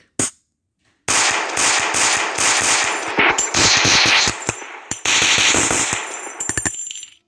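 Rapid bursts of StG 44 rifle fire crack out in a World War II video game, loud sharp shots in quick clusters with short pauses between them and a few single trailing shots at the end.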